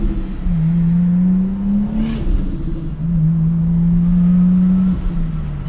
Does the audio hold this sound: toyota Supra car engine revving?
yes